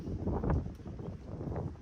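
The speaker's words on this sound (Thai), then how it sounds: "ลมมันพัด" Wind buffets a microphone outdoors, a steady rumbling roar with gusty swells and no clear voice over it.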